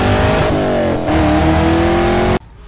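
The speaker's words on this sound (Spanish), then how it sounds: "Pinche carro pasó como rayo" A car races past at high speed with a loud, strained engine note rising in pitch, holding close and intense for about two seconds before cutting off abruptly.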